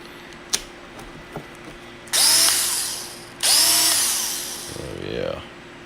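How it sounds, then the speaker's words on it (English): A Harbor Freight Earthquake XT 12v polisher/sander running on low spins up in two close bursts of a whine that tapers off each time, after a couple of clicks, with a voice briefly at the end. "It's not loud. It's on low."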